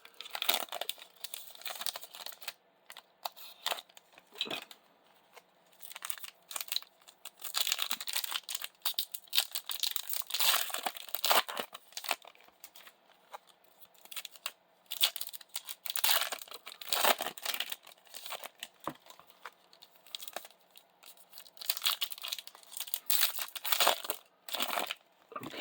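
2025 Topps Basketball retail card packs are torn open one after another, giving close, crisp bursts of crinkling and ripping foil wrapper with short pauses between packs and no talking.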